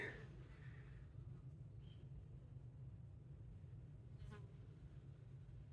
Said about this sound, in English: all you can hear is the bees buzzing